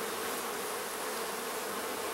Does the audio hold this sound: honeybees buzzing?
yes